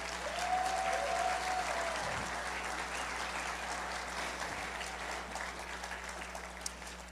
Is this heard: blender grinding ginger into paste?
no